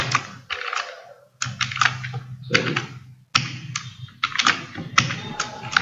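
Rapid bursts of computer keyboard typing while entering C program code, clattering keystrokes in quick irregular runs separated by short pauses, close and fairly loud with no voice over them.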